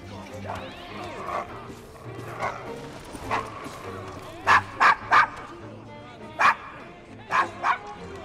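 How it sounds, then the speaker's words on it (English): Dog barking in the video game Assassin's Creed Syndicate: a string of sharp, loud close barks and yips in quick bursts, some paired, heard alongside talking voices. "Is your dog quite all right?"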